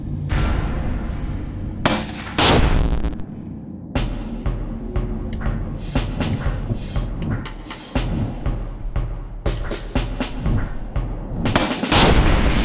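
Shots fired at enemies in the game Dark Dreams ring out as sharp, loud bangs, a few close together then spaced irregularly, each with a short decaying tail over a rumbling game background.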